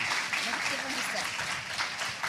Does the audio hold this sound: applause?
yes